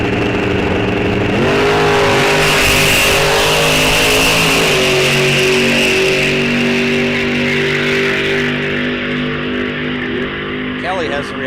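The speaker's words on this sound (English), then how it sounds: "Zach, 916 in the left lane in that beautiful Vega." Drag race cars roar and rev loudly at a bracket-series meet at Rock Falls Raceway, one of them a Vega, engines droning continuously with pitch shifts as they launch and run, with a track announcer talking over them throughout.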